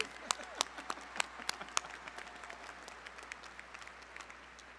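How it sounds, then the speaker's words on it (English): Audience applause at a university engineering commencement ceremony, a dense spread of clapping from a large crowd that starts with sharp nearby claps and continues steadily. "Please join me in giving our distinguished communicator a big round of applause."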